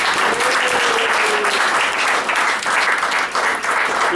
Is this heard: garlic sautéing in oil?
no